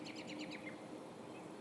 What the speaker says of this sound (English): Hear the birds tweeting in the background if you can hear this on the podcast.